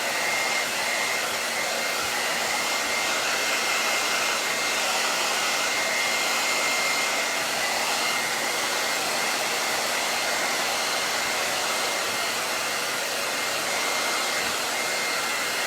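A handheld hair dryer blows steadily and loudly on short, wet hair during a salon cut, a continuous close whoosh with no pauses and no talking.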